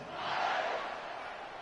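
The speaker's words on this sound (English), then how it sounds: "this crowd is buzzing after that last score" Crowd noise at a college football game, a steady broad roar that swells briefly and then holds at a moderate, distant level with no clear voices standing out.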